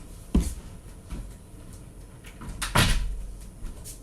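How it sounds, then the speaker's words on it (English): A door at home is pushed shut, a sharp thump with a brief rattle heard nearby, following a fainter knock earlier, with no talking over it. "Hang on, let me shut my door."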